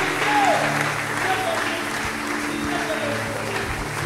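A church congregation claps steadily in sustained applause, with voices calling out over it.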